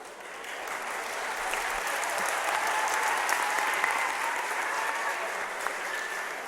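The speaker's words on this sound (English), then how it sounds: "Are you clapping because he got to the end of the question or because of the question?" A crowd at an all-candidates election debate in a hall applauds, steady loud clapping that swells and holds at a constant level through the whole stretch with faint voices mixed in.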